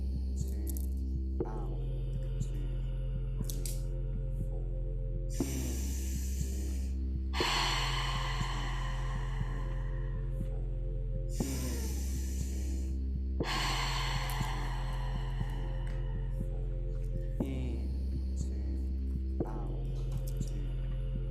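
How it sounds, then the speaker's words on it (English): Slow, rhythmic breathing during a breathwork class, each breath drawn in through the nose and let out through the mouth, repeating in long even cycles over a steady low hum, with no talking. "in through the nose, out through the mouth. Smooth, connected, rhythmic breathing."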